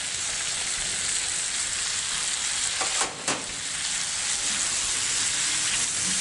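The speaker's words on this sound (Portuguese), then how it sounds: "Já refogado, agora a gente vem com o nosso feijão." Beans tipped into a sautéed mixture for feijão tropeiro hiss into a steady, close frying sizzle, with a brief burst of sharper crackle and a dip as they land, then even sizzling resumes.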